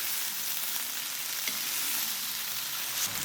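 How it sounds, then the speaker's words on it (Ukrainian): Beans with sausage and bacon sizzle and fry in a cauldron while being gently stirred, giving a steady soft crackle with a faint scrape of the spoon partway through. "легенько перемішуємо."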